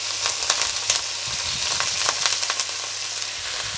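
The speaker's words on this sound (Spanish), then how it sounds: "Lo vamos a pochar durante unos 4 o 5 minutos con una pizca de sal a una temperatura media alta" Chopped onion and garlic sauté in hot oil in a frying pan over medium-high heat, a dense, even sizzle with crackling pops and light stirring, close up and without talk.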